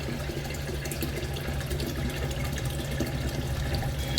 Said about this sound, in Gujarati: ઘરનું પાણી મારે ભરવું પડે.